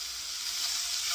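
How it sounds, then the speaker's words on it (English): Meat sizzling in a hot frying pan, a steady, dense crackling hiss that stays constant and close throughout, with no voices over it. "You can hear that sizzle, and that is exactly what we want."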